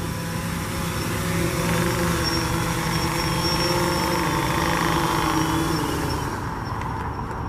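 A small consumer drone hovers and flies with its motors running, a steady multi-tone buzzing whine with slight pitch wavering that cuts off abruptly near the end as the engines are killed.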